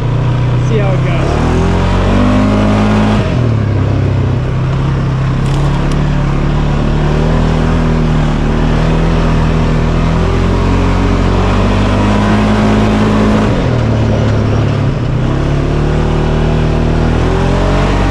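A 2023 Polaris Sportsman 570 ATV rides off-road around a park, its engine loud and close as it revs up and down through repeated surges of acceleration.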